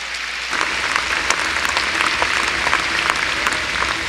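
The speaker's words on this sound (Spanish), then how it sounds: "Vamos a darle un aplauso al Señor en esta noche." A church congregation bursts into applause after a brief quiet moment, a loud, dense clatter of many hands with sharp individual claps standing out, continuing steadily to the end.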